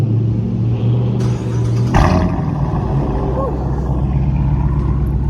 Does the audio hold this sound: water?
no